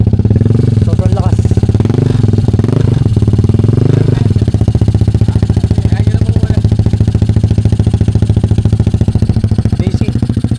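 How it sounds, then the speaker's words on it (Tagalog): An Italjet Dragster scooter with a Malossi exhaust, its silencer removed, revs loudly close by in a few rising bursts, then settles into a rapid, pulsing, throbbing idle; a voice is heard briefly over the engine. "Ito yung pag tinanggal yung silencer sa Malossi exhaust."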